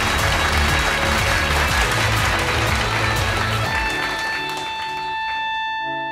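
A studio audience at a talk show bursts into loud, sustained applause to welcome a guest, dense clapping throughout that stays strong and begins to taper slightly near the end while a steady tone rings underneath.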